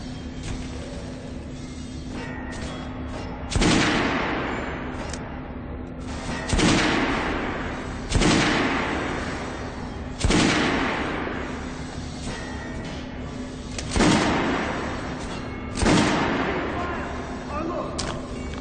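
Gunfire at a shooting range in the video game Metro: Last Light Redux, with about six heavy booming volleys spaced a few seconds apart, each decaying into a rumble, over a constant low hum.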